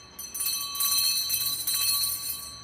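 A bright ringing bell chime used as a notification sound effect, sustained and clear with a shimmering tail, sounding alone at close range.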